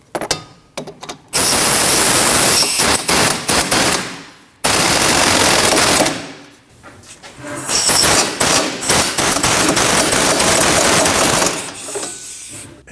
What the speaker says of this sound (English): Then we're going to tighten our 2 strut bolts.